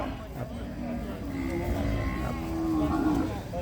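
Cattle low at a Thai livestock market, several drawn-out moos rising and falling close by over a murmur of people talking and background market noise.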